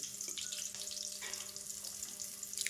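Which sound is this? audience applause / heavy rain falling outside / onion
onion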